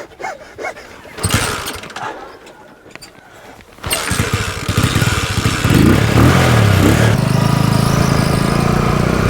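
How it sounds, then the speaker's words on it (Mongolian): A motorcycle in Ögii Nuur district, Mongolia, starts up after a few quieter knocks and shuffles, then runs steadily and close, its engine growing louder and holding a constant drone. "Мотоциклоор"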